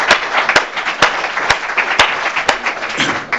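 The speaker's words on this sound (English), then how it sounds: "Can we give him a round of applause?" Applause from a religious lecture audience, a dense wash of clapping mixed with regular sharp loud claps about every half second, with no talking.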